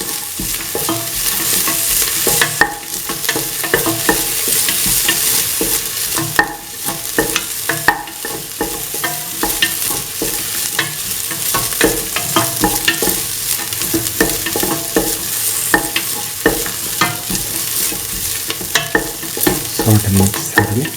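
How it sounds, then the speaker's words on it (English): Beef sautéing in a pan for an ash gourd and coconut milk stew. Loud, continuous sizzling is broken by frequent rhythmic scrapes and clacks of stirring, close up, with no voices. "Keep on sauteing."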